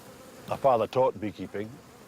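Aggressive black honeybees adapted to the harsh Scottish climate hum around a beekeeper's apiary in Scotland, their buzzing close and swelling in several uneven surges over about two seconds.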